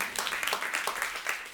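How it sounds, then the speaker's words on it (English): A conference audience at a climate event claps, a brief spell of quiet, scattered applause heard from some distance. "you can give them a round of applause too"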